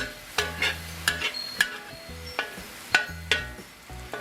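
Mung bean sprouts with wilted cabbage, carrots, peppers, onions and mushrooms stir-fried for chow mein, sharp spatula clanks against the pan at irregular intervals over a faint sizzle, close by.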